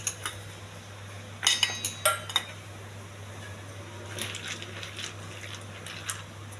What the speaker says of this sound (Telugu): మిల్లీ మేకర్ ఒకసారి కడగాలండి వాటర్లో వేసి